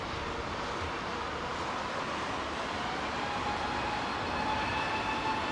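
British Airways Boeing 777 on arrival at London Heathrow runway 27R, its engines giving a steady, moderately distant broadband roar with a clattering, rattly texture and faint tonal whine, no voices.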